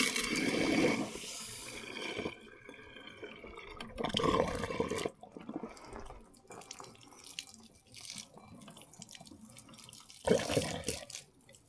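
Fresh water rushes and splashes through the plumbing of a Casita camper trailer's fresh water tank during a post-bleach flush, running in uneven surges with louder bursts near the start, middle and end.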